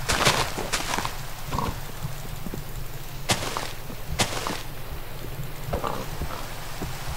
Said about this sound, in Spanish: Y tenemos aquí más cerdos, tío.